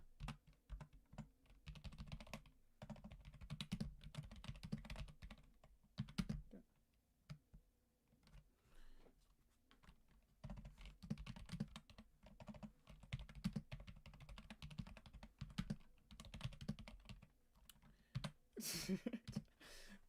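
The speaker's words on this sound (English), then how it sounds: "Y'all are not going to believe what I'm typing out right now." Close typing on a computer keyboard, irregular bursts of key clicks with brief pauses, fairly quiet and without speech.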